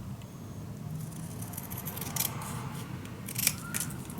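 Scissors cutting paper during a craft project for a decorative storage unit, a few quiet snips with sharper closes near the middle and end, no voices.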